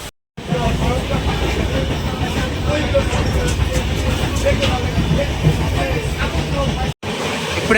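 Vivek Express train rolling past Tanuku railway station, a steady loud rumble and rattle of wheels and carriages with a continuous hiss, briefly dropping out for an instant near the end.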